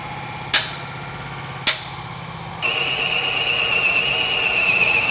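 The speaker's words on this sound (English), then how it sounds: "I'm going to use a center punch right here to make sure that we stay lined up in the middle." Two sharp metallic strikes of a hammer on a center punch against the steel frame of a 2019 truck, spaced about a second apart and close up, followed by a steady higher-pitched drill-like whine.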